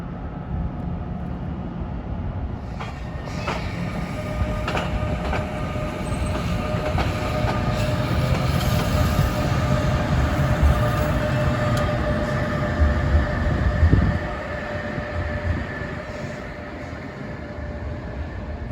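Fast Amtrak train with an ALP46 locomotive shoving on the rear, roaring steadily past at Rahway with a dense rail rumble, clicking wheel joints and high squeal, loud and close, swelling toward the end before easing.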